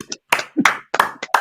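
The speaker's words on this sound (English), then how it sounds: "big round of applause for me" Sparse, uneven hand claps from a small improv comedy audience, a handful of separate sharp claps with silent gaps between them rather than full applause.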